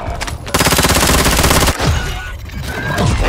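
Loud, close machine-gun fire in Call of Duty Warzone, a sustained rapid rattle of shots followed by further scattered bursts amid combat noise.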